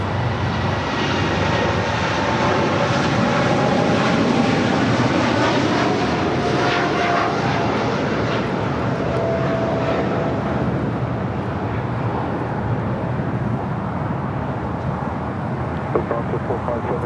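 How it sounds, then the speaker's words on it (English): A Lufthansa Boeing 747-8 Intercontinental heavy jet takes off from LAX with a loud, sustained engine roar that gradually fades, and a voice talks faintly over it. "This is Lufthansa 457 Heavy taking off to Frankfurt, Germany. 747-8 Intercontinental"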